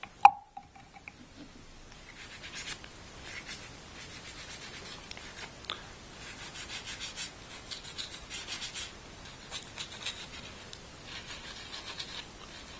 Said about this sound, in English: Now what we're going to do here is go ahead and scrub this guy down.